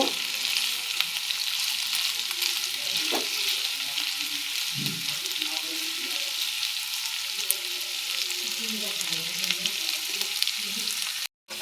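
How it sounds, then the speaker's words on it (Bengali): Boiled potato and cauliflower fry in a pan over a high gas flame, giving a loud, steady, close sizzle with occasional stirring scrapes and no voices. "গ্যাসের ফ্লেমকে বাড়িয়ে ভাজা ভাজা করে নেব।"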